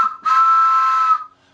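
A wooden train whistle gives a single sustained whistle, breathy and bright, blown for about a second before trailing off into quiet.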